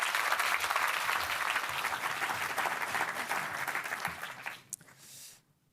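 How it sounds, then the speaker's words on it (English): Warm audience applause for the Dutch Minister of Defense at a NATO summit event in the Netherlands, loud sustained clapping from a large crowd that fades out and stops near the end. "Please give him a warm applause."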